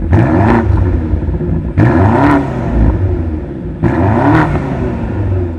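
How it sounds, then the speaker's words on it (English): A BMW G90 M5 with a V8 exhaust revs hard three times in a row, each loud, close burst of throttle rising and then falling back to a steady idle between blips. "now it sounds like a proper V8"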